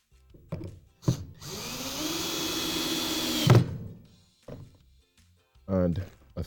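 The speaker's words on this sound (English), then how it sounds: "Now we're going to drive our screws." A power drill drives a 1.5 inch screw into a wooden end table, one sustained whirring run of about two and a half seconds ending in a thunk, with a few brief knocks and short bits of speech around it.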